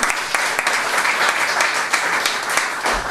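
Loud, dense applause from a sizeable audience at a triathlon club awards ceremony, sustained and even for the whole stretch.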